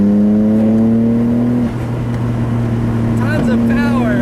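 A 1990 Nissan Skyline GT-R R32 inline-six revs hard past 7,000 rpm with a loud, sustained engine drone from inside the cabin. The note dips briefly as the gears shift, then climbs again.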